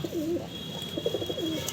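Low, rolling coos from female Giribaz pigeons close by in Payradanga, Nadia, a couple of short phrases in quick succession over a quiet hum.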